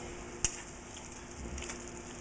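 Chicken and shrimp in a basil tomato garlic cream sauce at a gentle simmer, giving a soft, steady bubbling hiss with one sharp click near the start, quiet and close.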